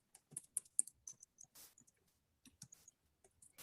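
Typing on a computer keyboard while filling in book details in an online publishing account, with irregular bursts of close, crisp key clicks separated by short pauses.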